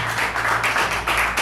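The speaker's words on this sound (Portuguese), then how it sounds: "Você pode louvar o Senhor com as suas palmas" Church congregation clapping hands in praise during a youth congress service, a loud dense crowd clapping in a roughly steady rhythm with low background hum and no talk.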